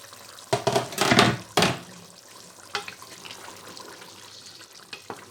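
Water splashes into a cooking pan of chicken and cauliflower curry in a few loud bursts over the first two seconds, then gives way to quieter sizzling and small clinks.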